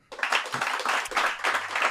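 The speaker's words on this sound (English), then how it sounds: "let's give a big round of applause" An audience claps after a startup pitch presentation, a short, close round of applause with uneven surges of hands for about two seconds.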